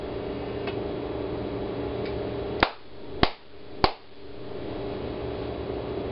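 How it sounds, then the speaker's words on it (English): Three sharp claps ring out singly and close together over a faint steady hum, for a Heathkit Hero Jr. robot responding to sound. "Please clap your hands when my lights go out"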